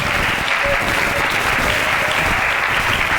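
A church congregation applauds at a Spanish-language youth worship service. The clapping is dense and continuous at full strength, with a faint murmur of voices beneath it.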